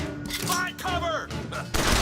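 Gunfire in Bioshock Infinite: a rapid fusillade of loud shots with metallic ringing tails, crowded together over about two seconds, with a voice speaking amid the shooting.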